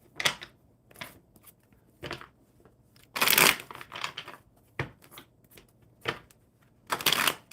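Playing cards are shuffled in scattered bursts of riffling and rustling, quiet stretches between louder flurries, close up with no talking.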